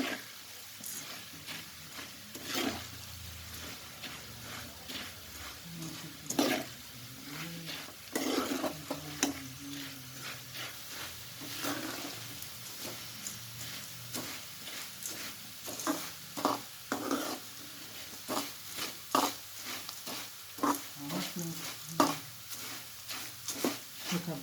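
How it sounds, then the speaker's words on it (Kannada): Mysore puffed rice (mandakki) being stirred and dry-fried in a pan on a low flame for oggarane chirmuri, a steady soft sizzle with repeated scraping strokes of the spoon, close by, with occasional voice in the background. "ಸಣ್ಣ ಉರಿಯಲ್ಲೇ ಫ್ರೈ ಮಾಡ್ತಾ ಇದ್ದೀನಿ"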